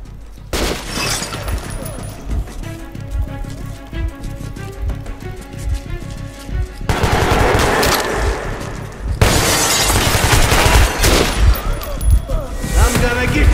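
Gunfire with flaming rounds in the video game Metro: Last Light, dense crackling bursts and shattering impacts that grow louder and busier in the second half, under someone talking.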